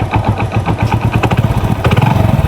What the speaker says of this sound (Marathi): आत्ता किक मारतो गाडीचं लवकर चालू होत नाही रिपीट मारते लेडीज स्प्लेंडरच आहे